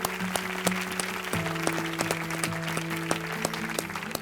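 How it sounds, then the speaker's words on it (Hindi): A studio audience at an Indian kids' quiz show applauds the girl teams, with moderate, steady clapping under a sustained musical tone. "जोरदार तालियां हो जाएं हमारे ऑल 3 गर्ल टीम्स के लिए।"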